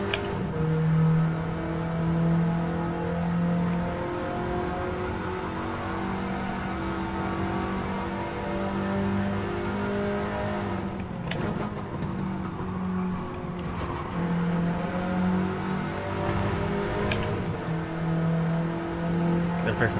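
Race car engines in Gran Turismo 7 drone and rev continuously, close and steady, with shifting pitch as gears change and brief rougher bursts midway, over a constant mechanical whine.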